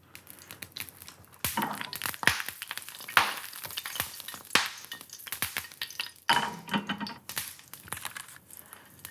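Food sizzling in a pan of hot olive oil over medium-high heat, with crackling bursts, clinks and scraping of utensils, fairly close and uneven in rhythm.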